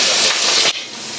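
Onions frying in a pan with bay leaves, dried chillies, cinnamon and cumin for a potato curry, giving a loud, steady sizzling hiss that drops abruptly to a quieter sizzle partway through.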